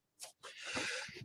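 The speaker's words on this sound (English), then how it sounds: "Sorry for the coughing" A man coughs during a live call-in show about building credit: a short harsh burst, a brief pause, then a longer raspy cough, close to the microphone with no talk over it.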